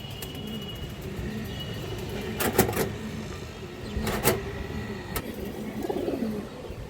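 Pigeons, including silver and punky varieties, coo softly in a loft: low murmuring calls run throughout over background hum, with a few sharp wing or perch noises standing out.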